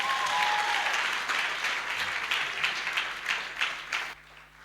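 A church congregation applauding during a service, dense sustained clapping from many hands that tapers off before stopping abruptly at the end.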